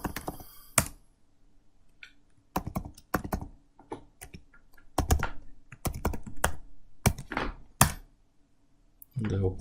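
Keys clatter in short irregular bursts as a password is typed on a computer keyboard, close and fairly quiet, with brief pauses between clusters of strokes.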